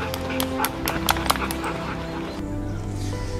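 Two dogs, a Jack Russell and a Rottweiler, bark and yip in a quick string of sharp calls that fade into whimpering, fairly close, with a low indoor hum and some brief voices in the background.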